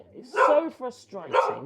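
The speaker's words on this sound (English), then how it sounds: "that's my dog" A dog barks twice nearby in a workshop, two short loud yaps about a second apart, with someone talking over and between the barks.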